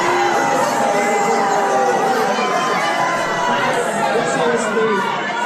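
A crowd at Congressman Keith Self's town hall boos him in a loud, sustained roar of jeers and shouts that holds steady for the whole stretch, with scattered voices rising above the mass of noise.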